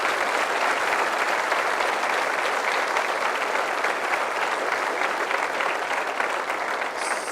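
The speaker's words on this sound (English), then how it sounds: "And let's give Mike a big hand of applause." Steady, dense applause from an audience fills the room without a break, loud and continuous, after a talk by astronaut Mike Hopkins at NASA Goddard.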